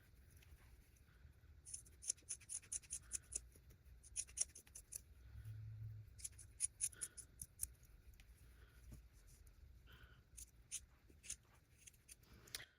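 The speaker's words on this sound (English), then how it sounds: "Now let's cut this cloth." Scissors cut through cloth in a quiet series of crisp snips and sliding rasps, some quick runs of cuts and some single closes, close up with no talk.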